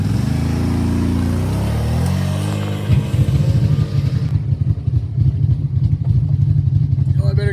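A Can-Am Outlander 570 MAX ATV engine revs hard and then settles into a loud, rapid, throbbing rumble as it pulls away close by, with some voices around it.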